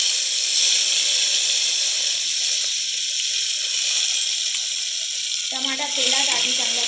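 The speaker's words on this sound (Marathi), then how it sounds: "तेल गरम झालं की सगळ्यात आधी टमाटा घालूया" Chopped tomato hitting hot oil in a pressure cooker, a steady broad sizzle and hiss throughout, with a voice speaking over it near the end.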